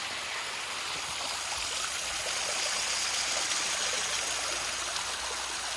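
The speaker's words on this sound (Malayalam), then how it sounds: "അധികം പവറൊന്നുമില്ല ചെറിയൊരു വെള്ളച്ചാട്ടം നല്ല രസമുണ്ട് കാണാൻ" A small, gentle forest waterfall in Mamalakandam rushes steadily as a constant broad wash of flowing water, close and unbroken, with no voices.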